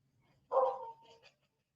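A dog gives a single short bark that stretches into a brief howl. It sounds moderately distant against a quiet background, and the whole call is over in under a second.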